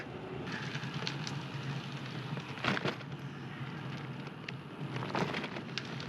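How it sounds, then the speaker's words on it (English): Steady rain hisses throughout, a dense wash of patter with a few brief louder splashes, no voices. "Now we have rain, just perfect."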